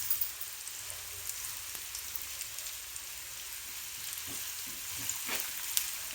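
Onions sizzle in a pan for chicken curry, a steady soft frying hiss with occasional faint crackles and light stirring scrapes, continuous and close with no talk.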